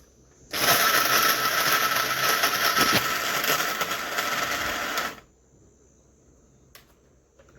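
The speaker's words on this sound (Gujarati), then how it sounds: "જો આપણે મિક્સરમાં દળ નાખ્યું" A kitchen mixer grinder running with flour inside: a loud, steady high-pitched whir that starts suddenly, holds for about four and a half seconds with a slight drop near the end, then cuts off into quiet.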